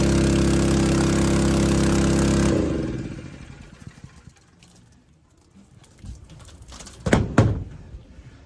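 A water pump runs at a steady, loud pitch for a couple of seconds, then cuts off, leaving faint clatter and a few sharp knocks close by.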